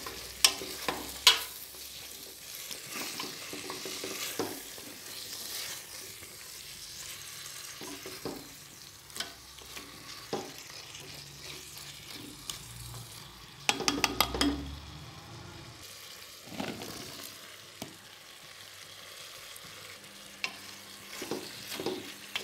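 Carrots fry in a pan with a soft, steady sizzle, punctuated now and then by sharper clinks and scrapes of a utensil stirring against the pan.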